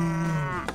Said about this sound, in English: Ooh, a cow.